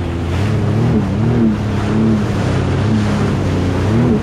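A loud, continuous engine roar of a watercraft revving hard, rising and falling in pitch over rushing water and wind.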